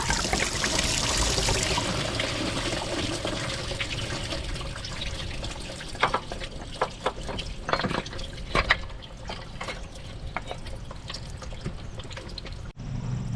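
Coolant trickles and drips from a Honda Accord engine as the water pump is pulled out, a steady faint pour followed by scattered drips and metallic taps of work.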